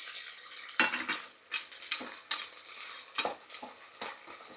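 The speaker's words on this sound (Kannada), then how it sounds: "ಕ್ಯಾಪ್ಸಿಕಮ್ಮು ಹಸಿ ಸ್ಮೆಲ್ಲೆಲ್ಲ ಹೋಗಿ ನೀಟಾಗಿ ಫ್ರೈ ಆಗಲಿ" Chopped capsicum stirs and fries in a pan with onions for tomato bath, a soft steady sizzle broken by repeated scraping strokes of the spatula, close and alone.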